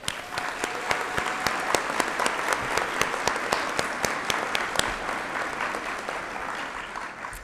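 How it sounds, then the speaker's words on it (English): A graduation ceremony audience at Holland College breaks into sustained applause, dense clapping from many hands with a few sharp individual claps standing out nearby, steady throughout and tapering slightly at the end. "Let's give them a round of applause"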